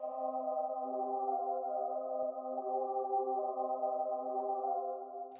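Choir sample soaked in Valhalla Room reverb, mixed into a drill beat: sustained, steady stacked vocal tones holding a smooth chord for the whole stretch, with no talking.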